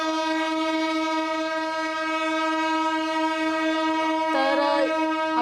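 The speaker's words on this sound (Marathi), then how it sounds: "स्वातंत्र्यानंतर पहिल्यांदाच बीड शहरामध्ये आता रेल्वे धावणार आहे" A train's horn sounds at Beed railway station during the inauguration of a new rail service, a loud continuous blare that holds steady throughout, with a brief added burst near the end over faint rolling noise.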